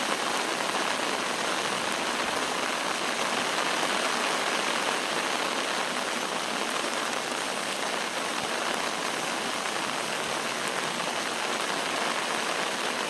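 Steady rain pours down over a historic property during a storm, a dense unbroken hiss of drops on surfaces lasting throughout, fairly close and without pause or voices.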